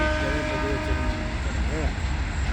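An Indian Railways train rolls past a paddy field close by, with a steady rumble and wheel clatter while its horn sounds in short wavering blasts over the din.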